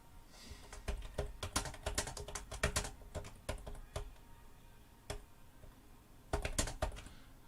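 Quick, irregular keystrokes on a computer keyboard, close and crisp, arriving in short bursts with brief pauses and a tight cluster of taps near the end.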